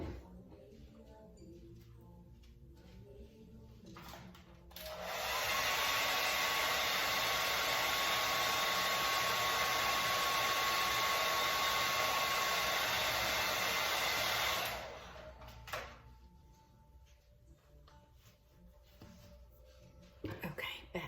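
A hair dryer blows steadily for about ten seconds to warm freshly mixed epoxy resin for bracelets, loud and close, starting and stopping abruptly with quiet room sound around it.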